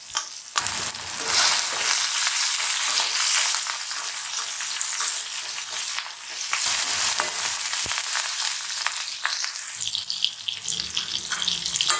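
Tomatoes and onions sauté in a pan for a drumstick puli kuzhambu, giving a steady, loud close sizzle with stirring scrapes throughout, easing slightly near the end.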